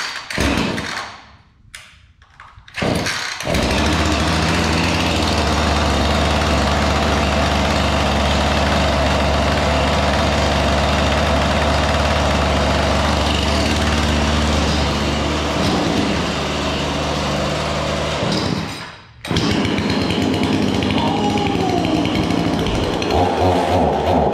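A never-before-started Husqvarna chainsaw fires up after a few thumps and runs loudly and steadily near at hand for about fifteen seconds, briefly cutting out before restarting and revving on.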